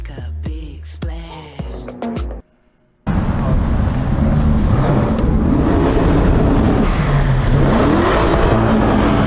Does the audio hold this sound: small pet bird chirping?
no